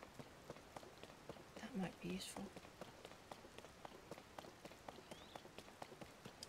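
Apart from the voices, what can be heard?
rain in the video game Zelda: Tears of the Kingdom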